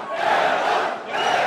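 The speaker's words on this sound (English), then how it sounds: "You can hear the crowd." An arm wrestling crowd roars and cheers loudly and steadily throughout, a dense wall of voices with a brief dip near the end before surging again.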